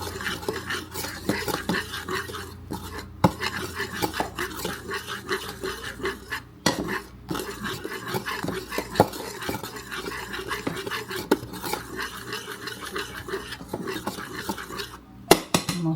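Flour, cornstarch, baking soda and salt are mixed in a bowl for peanut butter cookies, giving a steady run of scraping, clinking utensil-on-bowl sounds with occasional sharper knocks, close and continuous with no talking.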